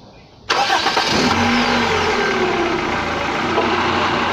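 A Toyota car's engine cranks and fires abruptly, then settles into a loud, steady idle close by, with the air-conditioning compressor running during refrigerant recharging.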